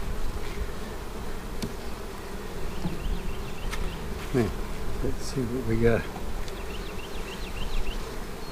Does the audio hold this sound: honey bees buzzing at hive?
yes